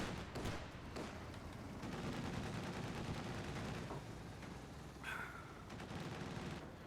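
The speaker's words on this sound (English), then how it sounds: "Flak half-track is here. Going to announce its presence by gunning down some Grenadiers." Flak half-track machine gun firing on Grenadiers in a war video game, rapid bursts of gunfire and booms at a moderate, fairly distant level, with a brief sharper crack near the end.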